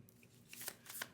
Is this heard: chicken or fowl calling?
no